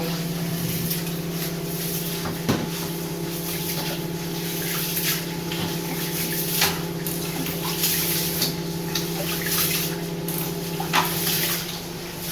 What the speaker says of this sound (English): So guys, we're going to get our rice wash.